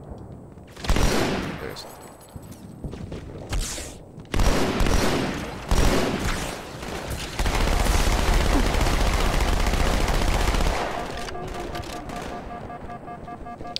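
Marines firing in the Halo 2 Anniversary campaign: loud bursts of gunfire and explosions, then several seconds of sustained automatic fire over a rumbling low roar, with a voice speaking briefly.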